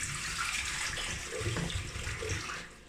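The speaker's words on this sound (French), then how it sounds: "Je vais venir ajouter 1 litre d'eau." A litre of water poured into a cooking bowl before Varoma steaming, a steady close splashing gush lasting a few seconds, no talking.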